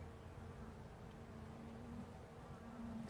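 Honeybees from a swarm buzzing around an open hive frame where they are starting to build wax on a warm day, a dense continuous hum, faint and even, with no talking.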